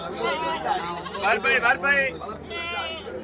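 Goats bleat close by at a busy Saturday livestock market in Ettayapuram, their wavering calls overlapping one another. Nearby voices from the market crowd can be heard underneath.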